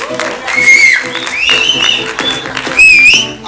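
A crowd at a film event applauds and whistles for actress Manisha Koirala, sharp piercing whistles rising over clapping and a loud, amplified voice.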